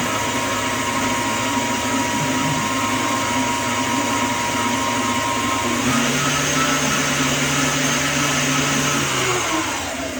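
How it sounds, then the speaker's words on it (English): An electric hand mixer whirs steadily through pizzelle cookie batter, a continuous mid-loud motor drone that shifts to a slightly different pitch partway through before easing off near the end. "now you're gonna mix that for about 15 seconds"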